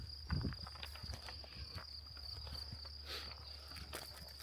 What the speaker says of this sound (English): and you hear the crickets.